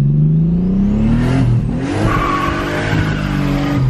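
A modified Chevrolet Omega with cut springs accelerates hard, its engine note climbing steadily, easing briefly, then pulling up again through a gear change, loud and close with no talk.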